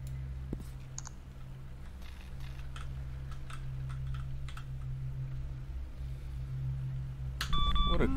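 Keyboard typing inside a video game, a rapid run of light clicks over a steady low hum, ending with a short electronic beep.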